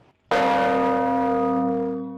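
The Dakong Lingganay, the biggest church bell in Southeast Asia, is struck once after a brief quiet, giving a loud, close clang followed by a long, humming ring that slowly fades.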